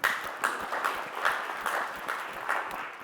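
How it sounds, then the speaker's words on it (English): Audience applause for presenting partners at a Silicon Valley opening session, a steady wash of many hands clapping with regular peaks, moderately loud and continuous without speech. "So a big round of applause for our presenting partners"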